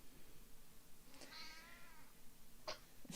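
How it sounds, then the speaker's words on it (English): A pet cat meows insistently nearby, two drawn-out yowls close together, heard quietly over a faint room hum. "My cat is yelling at me."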